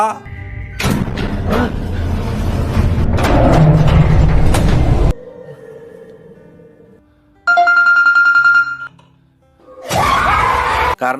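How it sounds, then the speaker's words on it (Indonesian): A mobile phone's incoming-call ringtone plays briefly, a bright tonal ring of about two seconds set between loud, dense noisy passages in a dark, tense scene. "ketika Simon mendapat telepon dari si Lira"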